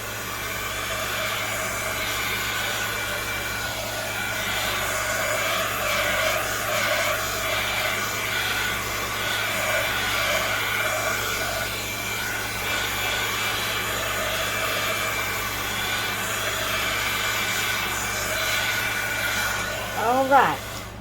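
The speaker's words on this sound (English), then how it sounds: "I'm going to turn on my heating tool for just a minute." A craft heat tool blowing a steady whirring stream of hot air to dry paint, constant and close, with soft hand movements and a faint rustle at the very end.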